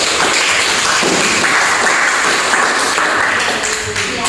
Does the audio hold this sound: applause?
yes